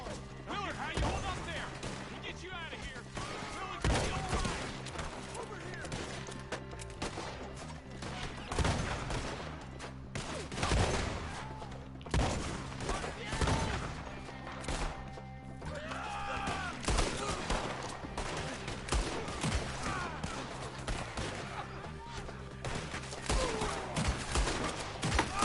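Gunfire in the Red Dead Redemption 2 video game: repeated sharp shots and volleys keep bursting over continuous game ambience and music, moderately loud throughout.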